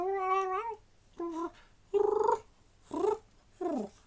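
A human voice imitates a mother cat's communication sounds to her kittens, making five short, close chirping and trilling mews in an irregular sequence with brief pauses between them.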